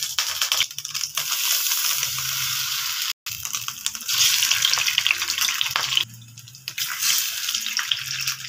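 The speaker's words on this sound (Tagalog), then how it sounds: "at habang nagpiprito tayo" A CDO beef burger patty frying in cooking oil in a pan: loud, continuous bright sizzling and crackling that briefly cuts out and dips in level, with no voices over it.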